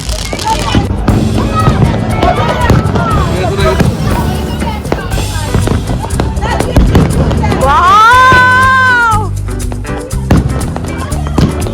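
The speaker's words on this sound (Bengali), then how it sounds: "এখন আমরা হোটেলের ছাদে উঠে এসেছি আর দুর্দান্ত ভাবে চারিদিকে বাজি" Bursts of New Year fireworks crackle and boom all around a hotel rooftop in Puri, a dense, continuous barrage heard alongside excited talk and crowd noise, with a rising whistle of a rocket near the middle.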